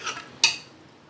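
Bottle gourd and meat curry being served into a dish gives a couple of close metallic clinks of a spoon against the pot, the second one sharper and louder, with no talk.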